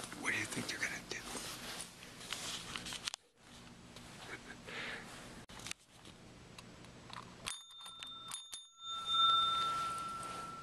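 A doorbell rings at a building entrance, a couple of bright, thin chimes near the end of the stretch, heard over steady background noise and soft whispered talk.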